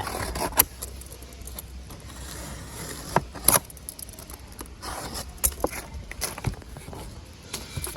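A cardboard box being slit with a blade and folded while packing Colocasia plants, giving scattered scraping and rustling with sharp crinkles and taps, at close range and moderate loudness, with no speech.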